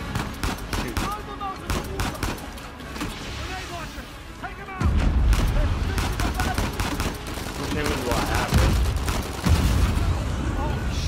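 Repeated bursts of gunfire in Uncharted 4, crackling and rattling through the whole stretch and growing louder and denser partway in, with voices calling out over the shooting.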